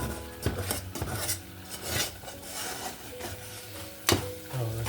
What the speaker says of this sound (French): je suis bon pour gratter la cuillère